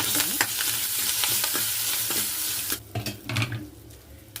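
Masala with three dried chillies frying in oil for a tomato rasam, a steady close sizzle with scraping stirs that turn more broken and clattery toward the end.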